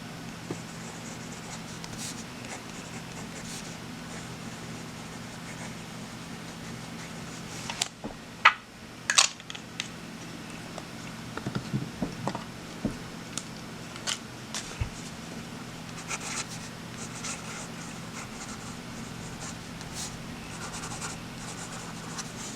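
A Sailor Compass 1911 fountain pen writing on Kokuyo Campus paper, faint scratchy strokes in short bursts with pauses, close up over a low steady room hum, no talk.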